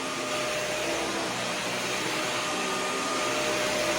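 A Dyson DC41 vacuum cleaner runs during routine household vacuuming, its steady, loud motor roar and airflow hiss holding evenly from start to finish with no talking.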